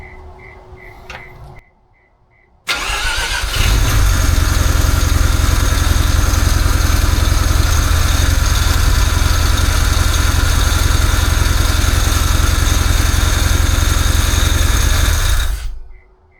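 A Mazda RX-8 rotary engine with a loose balance belt starts up and runs, a loud, steady, rough idle with a droning low rumble that holds for over ten seconds after a brief quiet gap, close by with no talk.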